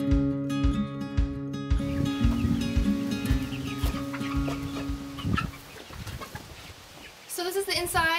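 Chickens cluck and squawk close by inside a chicken coop, repeated calls over steady background noise, with a higher bird call near the end.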